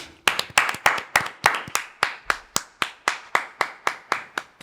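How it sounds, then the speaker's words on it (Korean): A small group claps in unison at a steady rhythm, sharp close hand claps repeating about every quarter second, loud and alone without talk. "박수!"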